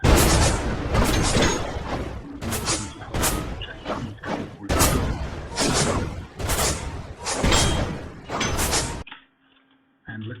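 Cannons in an Unreal Engine game demo fire projectiles in a fast series of about a dozen loud, booming shots with short gaps between them. The barrage stops abruptly near the end, leaving near silence.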